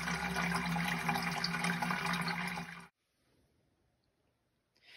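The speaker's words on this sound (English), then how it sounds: "Pouring it through the cheesecloth." Elderflower champagne is poured through cheesecloth into a bucket, a continuous loud splashing rush of liquid that stops abruptly, leaving near silence before a faint trickle returns.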